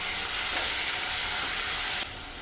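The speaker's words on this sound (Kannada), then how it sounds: "ಟೊಮೆಟೊ ಹಾಕ್ಬಿಟ್ಟು ಸ್ವಲ್ಪ ಸ್ಮ್ಯಾಶ್ ಆಗೋವರೆಗೂ ನಾವು ಫ್ರೈ ಮಾಡ್ಕೊಳ್ಳೋಣ" Tomatoes frying in a pan for a Tamil Nadu–style egg curry, with a steady, loud hiss of sizzling oil that drops in level near the end.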